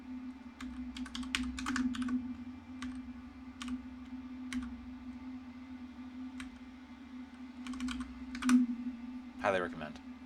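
Typing on a computer keyboard: quiet bursts of quick, light key clicks separated by pauses, over a steady low electrical hum in a quiet room.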